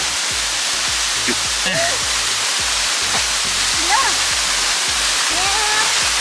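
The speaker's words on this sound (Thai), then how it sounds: "น้ำตกธรรมชาติ ที่สวย" Steady roaring rush of a natural forest waterfall on the Chiang Mai–Lampang route fills the scene, loud and continuous, with faint voices barely audible underneath.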